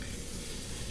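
Beef bavette searing in butter in a frying pan, a steady loud sizzle and crackle running evenly throughout with no talk.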